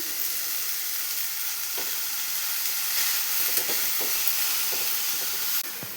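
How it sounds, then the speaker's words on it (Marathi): Fenugreek leaves fry in a hot pan for methi besan pithla, giving a continuous bright sizzle with intermittent scrapes and taps of a spoon as they are stirred. "आता हे चांगलं भाजलं की मेथी घालून घ्यायची"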